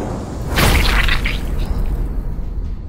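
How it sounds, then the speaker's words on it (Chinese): Explosion sound effect in a comic fantasy audio drama: a sudden heavy boom bursts out with a whooshing, crackling blast, then decays into a rumbling tail. "轰的一声巨响炸开"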